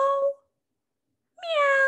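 A voice imitates a cat's meow, given as a short tonal 'meow' at the start and a longer, rising meow near the end, with a silent gap between, during a reading of a picture book about a purple cat.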